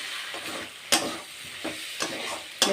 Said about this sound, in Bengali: ভালোভাবে আমি এখন কষে নেব মশলার সাথে